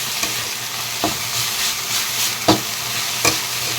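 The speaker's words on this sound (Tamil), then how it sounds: "கொஞ்சமாக ஆயில் ஊற்றிக்கணும், ஏன்னா இந்த மாதிரி ஃப்ரை பண்ணாதான் வந்து கசப்பு சரியாதான்" Vegetables fry in a little oil with a steady crackling sizzle, broken by several sharp scrapes and knocks of a spoon stirring the pan at an even, unhurried pace.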